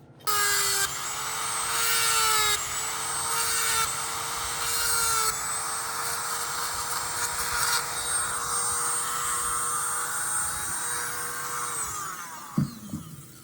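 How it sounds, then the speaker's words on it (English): A power grinder bites into wood with a steady high whine, loud and close, pulsing in several passes before running long and winding down with a few clunks at the end. "grind a little bit more material away"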